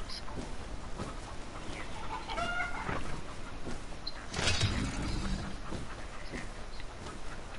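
A chicken in a video game clucking in a few quick bursts against a rough, noisy background, fairly faint and not far off.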